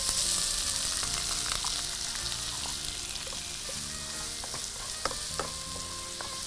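Onions sautéing in oil in a pan, a steady low sizzle with occasional light clinks and scrapes, close and continuous, no talking.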